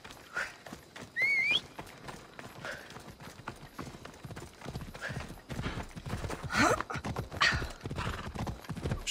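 Horse hooves clip-clopping along a road in the video game Assassin's Creed Odyssey, a steady galloping rhythm of hoofbeats with a whinny and some game ambience mixed in.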